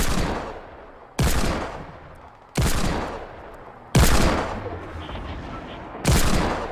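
Fortnite gunfire: five loud, booming shots, each ringing out and decaying before the next, spaced about a second apart.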